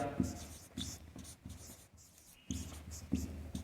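Pen or chalk scratching out short bursts of writing during a Class 10 maths lesson on areas related to circles, quiet strokes separated by brief pauses, with a voice speaking faintly alongside.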